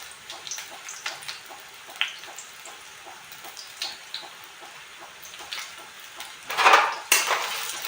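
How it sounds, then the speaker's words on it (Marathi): Sliced onions dropped into hot oil in a pan, quiet clinks of utensils at first, then a sudden loud burst of sizzling frying that continues to the end. "तर ते कांदे आपण याच्यामध्ये टाकणार आहोत"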